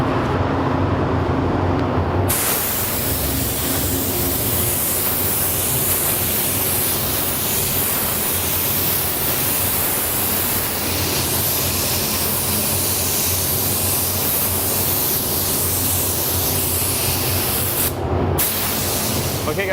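An airbrush sprays a first coat of Createx candy paint, a loud continuous hiss that kicks in after a short pause, runs steadily and briefly cuts out near the end, with faint talk underneath.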